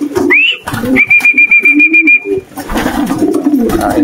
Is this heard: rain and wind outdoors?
no